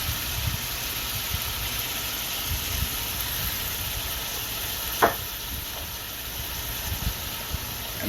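Beef brisket sizzles steadily in a pan while Worcestershire and soy sauce are stirred in, a constant frying hiss with a low rumble and one brief sharp scrape near the middle.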